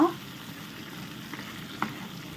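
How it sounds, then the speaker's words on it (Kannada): Prawns ghee roast masala frying in a pan over a slow flame, a steady close sizzle and crackle with a couple of soft stirring knocks, no voices. "ಸ್ಲೋ ಫ್ಲೇಮಲ್ಲೇ ಫ್ರೈ ಮಾಡಿಕೊಳ್ಳಿ ಚೆನ್ನಾಗಿ"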